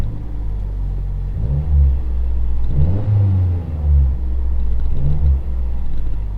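A 2012 Mazdaspeed 3 with new motor mounts accelerates on a test drive, its engine droning steadily inside the cabin with several rising revs and shifts in pitch.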